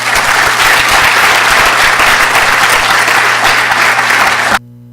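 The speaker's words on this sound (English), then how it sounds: "Please give these gentlemen a big round of applause." A conference audience gives panelists a big round of applause: loud, close, continuous clapping from many hands that cuts off abruptly at the end.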